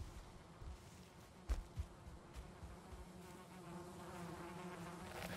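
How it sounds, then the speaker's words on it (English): Bees buzzing in the survival video game Valheim, a faint, steady insect drone running through the whole stretch with a few soft thumps and knocks breaking in along the way. "Bees! Ow! Ow! No! Ooh, bees."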